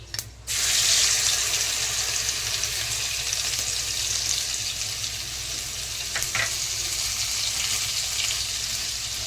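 Spices with a spoonful of garam masala sizzle steadily in a pan for Konkani-style kala chana usal, a continuous close frying hiss after a brief quiet start, with faint scrapes of stirring; no one speaks.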